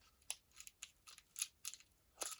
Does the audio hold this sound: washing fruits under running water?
no